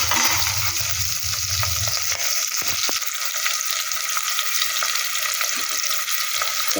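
Chopped onion hits hot oil in a pan while making ragi vermicelli, giving a steady bright sizzle with brief stirring clatters, close and continuous, and no talk.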